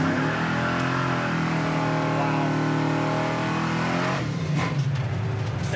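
A 1971 Ford Mach 1 with a 429 Cobra Jet V8 revs and accelerates hard from a warmed-up engine. A deep, rising roar with climbing harmonics is heard from inside the car, easing off near the end as a gear change or lift.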